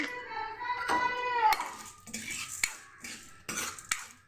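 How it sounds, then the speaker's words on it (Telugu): Chana dal roasting in a pan for fried rice, with a metal spoon scraping and clinking against the pan in irregular strokes; a short whistly tone sounds early on. "ఇప్పుడు పచ్చిశనగపప్పు వేయించుకుందామండి."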